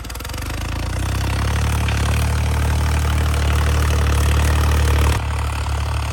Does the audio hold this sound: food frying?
no